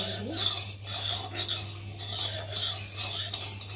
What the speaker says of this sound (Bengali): খুন্তি দিয়ে একটু ছেঁকে ছেঁকে দিতে হবে